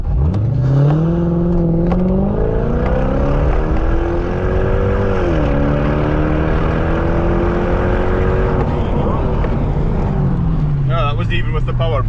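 A loud engine roars as a modified Lexus LS430 sedan accelerates hard from 0 to 60, pitch climbing through several gear changes before easing off near the end.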